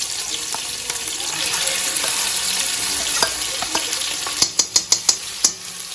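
Ground masala with tomato and turmeric powder sizzles and fries in a pan while being stirred, a steady crackle broken near the end by a quick run of sharp spoon taps against the pan.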